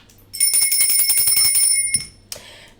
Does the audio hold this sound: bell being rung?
yes